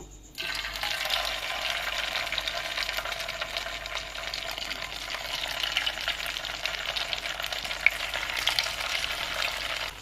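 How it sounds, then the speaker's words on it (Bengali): Steady oil sizzle of sago fritters frying in a wok over a medium-low flame, a dense crackling hiss that starts abruptly and continues evenly, close by, with no voices. "মিডিয়াম টু লো ফ্লেমে এগুলোকে ভালো করে ভাজতে হবে"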